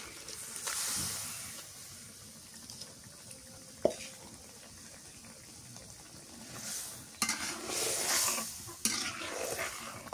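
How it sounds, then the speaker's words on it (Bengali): Hilsa fish frying in hot oil in a home kitchen, a steady close hiss and sizzle with crackling bursts and a few sharp clinks, rising louder near the end. "কলো ফুটে গেছে, মাছ দিয়ে দিই"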